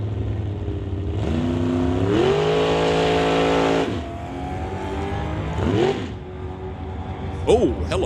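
A 1969 Acadian drag race car rumbles loudly in reverse back from the staging beams at a drag strip, its engine note rising and then easing, with a commentator talking over it.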